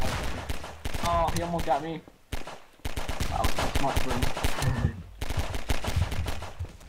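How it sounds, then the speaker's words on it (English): Rapid gunfire in Garry's Mod, loud bursts of automatic shots in clusters separated by short gaps, with excited players talking over them. "Everyone's just randomly shooting."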